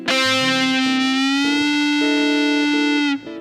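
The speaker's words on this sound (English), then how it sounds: "you play a note and then you bend the string after you've played it" A distorted electric guitar, played in a rock technique lesson, sustains a single note for about three seconds while the string is bent to lift its pitch. It rings loud and alone with a gritty effects tone, then cuts off sharply.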